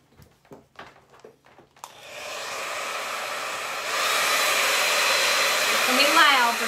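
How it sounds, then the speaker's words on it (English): A hair blow dryer switches on after a few soft knocks and blows a steady, loud whooshing roar that rises in strength partway through, drying a burlap carrot sign close by. "She's gonna bring me in the, you know, blow dryer."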